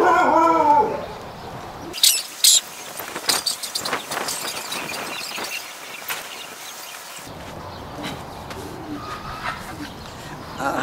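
Dogs bark in a series of sharp, irregular bursts at moderate distance, some close together and others spaced out, over a steady background.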